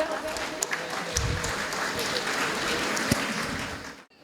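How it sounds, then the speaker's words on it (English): An audience at a convent school's annual day function applauds steadily for about four seconds, a dense even patter of many hands that cuts off abruptly at the end, with faint voices beneath. "Ladies and gentlemen, please clap for them."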